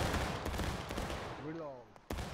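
A musket volley fires on command in the Civil War game War of Rights, a broad crackling burst of many shots close together that rings out against a steady background din while a voice calls out.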